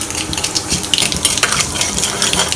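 Mustard seeds fry in hot oil in a kadai, giving a loud, dense crackle of rapid pops and spatters that runs continuously up close.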